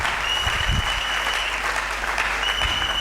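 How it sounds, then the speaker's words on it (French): A church congregation applauds loudly and continuously during a sermon, dense clapping filling the space with a few cheers rising through it. "Acclamons très fort."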